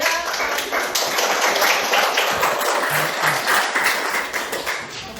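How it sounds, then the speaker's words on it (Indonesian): A class of eighth-grade students claps together in a school classroom, a dense, steady burst of many hands that runs through the whole moment at close range. "tepuk tangan untuk kelas 8"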